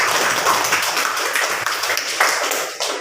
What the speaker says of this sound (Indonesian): Tepuk tangan dulu untuk Nur Hasanah.